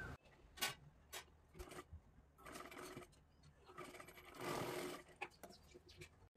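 A sewing machine stitches a blouse sleeve in several short, faint bursts of rapid mechanical whirring, separated by brief pauses, with no voices.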